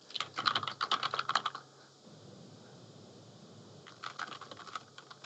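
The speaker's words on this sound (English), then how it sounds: "Are you typing something?" Rapid clicking of a computer keyboard in two bursts, a flurry of keystrokes, a pause of quiet room tone, then more typing, close and fairly soft with no talking.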